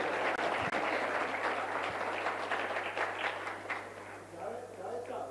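Live audience at a public talk breaking into sustained applause, a dense wash of clapping that swells and then thins slightly toward the end, with a steady low hum underneath.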